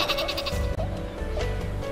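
Sheep bleating in the Worms W.M.D video game, a loud, close, wavering bleat repeated over game music.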